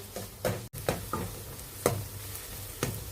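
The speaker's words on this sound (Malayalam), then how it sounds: "നന്നായിട്ടൊന്ന് വഴറ്റി കൊടുക്കാം" Chopped garlic sautés in a pan for palak paneer, giving a steady close sizzle broken by several sharp scrapes of a spoon stirring it.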